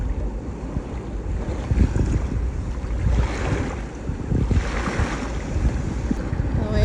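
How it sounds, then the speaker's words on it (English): Rough ocean waves on a Florida beach, a continuous roar of surf with surges washing in, heavy wind buffeting the microphone throughout. "The waves are rough today."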